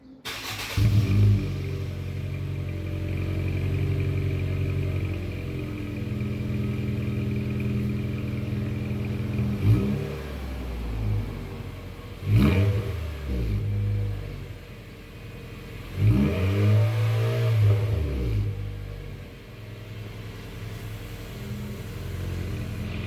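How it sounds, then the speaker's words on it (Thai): A Honda Brio Amaze engine idles loudly with no exhaust pipe fitted, a rough, unmuffled rumble, then revs up sharply three times, each burst rising and falling back to a throaty idle. "รถที่ไม่มีท่อไอเสีย"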